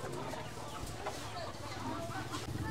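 Chickens cluck and squawk at a busy rural market in Nakhon Phanom where live fowl are sold, close and continuous, with steady crowd chatter and voices talking throughout.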